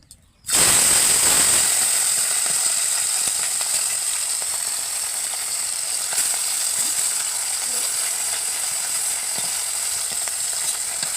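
Small fish coated in salt and turmeric fry in mustard oil in a kadai, a loud steady sizzle starting abruptly and continuing throughout with faint clicks of stirring.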